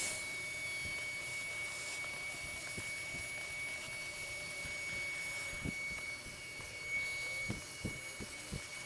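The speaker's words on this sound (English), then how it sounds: "It did a great job cleaning up all of that debris as a handheld vacuum." A budget cordless handheld vacuum cleaner running with its crevice tool during a home and car cleaning test: a steady, fairly faint motor whine and airflow hum, with scattered soft knocks and thuds as debris and the nozzle hit surfaces.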